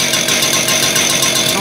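A rebuilt concrete saw engine running at a high idle, a steady loud buzzing drone with a fast even pulse and no break, heard close up.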